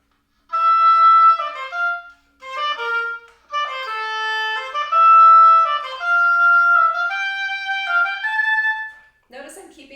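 Solo oboe plays a technical concert band etude using an altered rhythm, each long note followed by two quicker ones, in clear phrases separated by short breaths; close and fairly loud, with no other sound between phrases.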